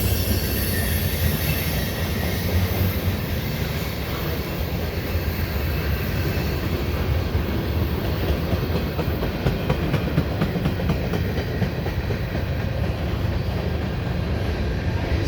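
A CN mixed freight train rolls past close by in winter, a loud continuous rumble of wagons with squealing wheels and a steady rhythmic clatter that holds unbroken throughout.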